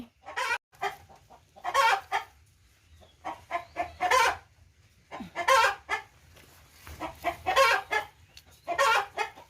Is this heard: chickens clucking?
yes